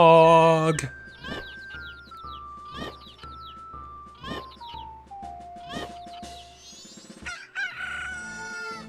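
Grown cucco chickens in the Majora's Mask video game crow several times in a row, loud shrill cock-a-doodle-doo calls over a game music melody, followed by jingle chimes.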